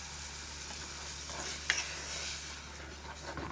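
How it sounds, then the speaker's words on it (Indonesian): Blended small tomatoes being stirred into frying spices in a pan, a soft steady sizzle with scraping stir strokes and a brief clink partway through. "Aduk-aduk dulu sampai tercampur dan tidak berkerak di bawahnya."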